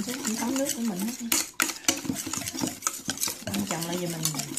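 Batter for coated fried shrimp is whisked and stirred in a bowl, giving close, uneven scraping and clinking strokes with brief pauses, under a faint background hum.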